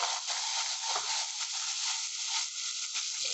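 Small shallots frying in an onion masala for South Indian fish kulambu, giving a steady, close, even sizzle with faint stirring scrapes and no talk.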